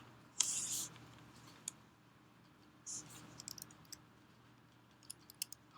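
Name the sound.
typing and clicking on a computer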